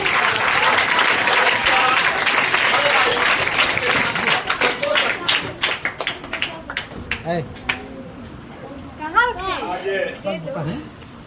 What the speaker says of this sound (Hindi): जोरदार तालियों के साथ स्वागत किया जाए।